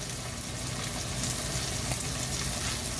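Garlic and shallots sizzling in bacon fat over low heat, a steady soft crackling hiss with no talk.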